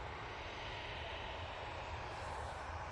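A Ryanair airliner departs Manchester Airport bound for Seville. Its engines give a steady, broad jet roar that holds evenly throughout, fairly distant and quiet, with no voices over it.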